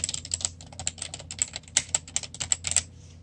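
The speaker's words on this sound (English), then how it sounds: "The keys aren't too terribly loud," Typing on a Coolermaster MS110 membrane RGB keyboard: a quick, uneven run of soft but fairly crisp keystrokes, close and clear, trailing off near the end.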